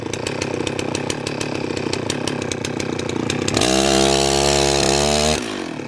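A chainsaw cuts big firewood rounds, idling and chattering at first, then revving hard into a steady high-pitched scream before dropping back down.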